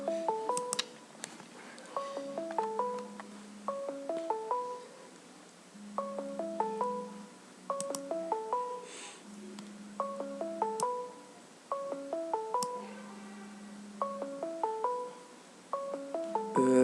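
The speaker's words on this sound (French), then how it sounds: "il y a mon téléphone qui sonne" A mobile phone ringtone plays a repeating melodic pattern of short electronic notes in bursts, recurring steadily over a low sustained tone, fairly close and moderately loud.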